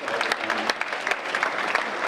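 An audience at a public lecture breaks into clapping, a busy crackle of many hands with some sharper individual claps standing out, moderately loud and close.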